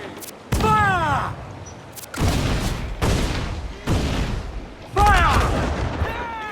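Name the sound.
ship cannon fire in video game Assassin's Creed IV Black Flag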